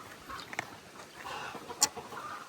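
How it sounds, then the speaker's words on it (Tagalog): Chickens on a hot, dry farm clucking faintly in the background, with a few short, scattered calls and one brief sharper squawk near the end. "kuha natin yung mga manok"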